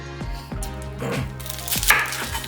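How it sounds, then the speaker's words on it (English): Onions with their skins still on being chopped with a knife for a Filipino breakfast dish, a steady series of close, crisp knife strikes on a board with no talking. "Now, everyone have their own way of chopping onions, I suppose, but I like to keep the skin on mine."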